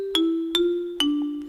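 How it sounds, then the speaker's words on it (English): Marimba preset on a Roland MC-303, chromatic percussion: three struck notes, evenly spaced, each with a sharp wooden attack and a short ringing decay, clear and close with no voices. "the Marimba, which sounds like this"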